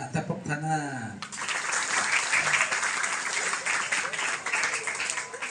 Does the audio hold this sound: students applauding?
yes